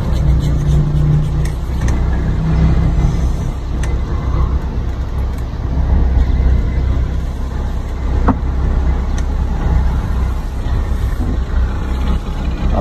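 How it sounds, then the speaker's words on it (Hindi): A Honda Civic with a broken rim idles and creeps backward into a workshop, a steady close engine rumble with faint background clatter. "अब करते हैं पीछे पीछे पीछे पीछे पीछे पीछे पीछे पीछे पीछे पीछे पीछे"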